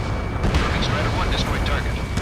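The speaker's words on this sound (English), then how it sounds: "Strider 1, missile launched." Missile launch and explosions in the Ace Combat 7 flight combat game, heard as loud continuous rumbling booms with bursts over a dense low roar, with a radio voice talking over them.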